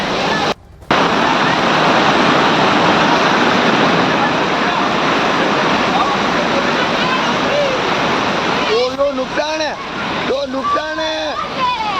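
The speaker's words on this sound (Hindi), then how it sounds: "नदियां इस वक्त अपने सबसे ज्यादा खतरनाक उफान पर हैं। बारिश लगातार हो रही है।" A flood-swollen river during heavy rain in Rajasthan, a loud, continuous roar of rushing water, with a voice talking over it toward the end.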